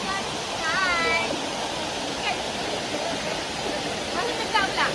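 Waterfall at Sungai Pisang, a continuous loud rushing roar of falling water close by, with people talking and calling out over it.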